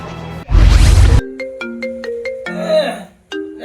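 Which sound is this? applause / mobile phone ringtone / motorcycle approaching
mobile phone ringtone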